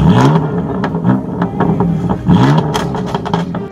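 A BMW M3 engine cranks and catches, then revs in two sharp, loud bursts that sweep up and fall back, with clattery mechanical detail and no voices.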